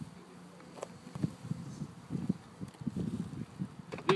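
Honey bees buzz faintly and unevenly close to the microphone during a package install into a hive of drawn comb with honey, with soft rustling and handling noises between the buzzes.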